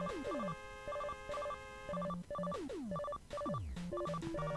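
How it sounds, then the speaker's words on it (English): A chiptune telephone jingle from Mega Man 9 plays in repeated beeping bursts with falling sweeps and low tones, steady and evenly loud, with nothing else heard. "The phone is ringing."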